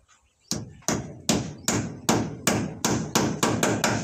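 Steady hammer blows, about ten sharp strikes at a quickening pace, each ringing briefly before the next; loud and close, with no talking.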